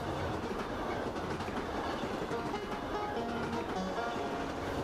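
A train in the video game Ira rolls along the rails with a steady rumble and faint clickety-clack, moderately quiet and continuous throughout.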